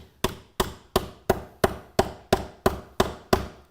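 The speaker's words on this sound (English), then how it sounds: "We're going to just use a mallet and hit it lightly." A mallet lightly taps a magnetic snap rivet to set it, ten sharp, evenly spaced knocks close up with short ringing decays, and no other sound between them.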